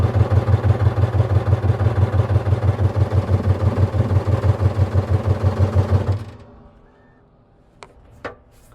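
Motorcycle engine idling with the choke pulled in, a loud, close, rapid even pulsing that runs for about six seconds and then cuts out, leaving quiet with a couple of faint clicks.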